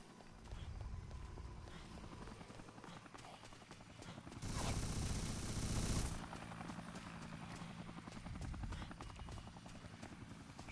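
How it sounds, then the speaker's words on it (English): A helicopter in the video game Dead Rising thrums with a faint, continuous rotor chop that swells briefly louder, as if passing overhead, amid low background game noise. "Just want to take down the chopper."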